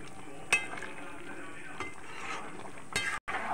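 Ghee and garam masala sizzling in a pan with fried cashews, a steady close crackle punctuated by sharp metal utensil clinks against the pan.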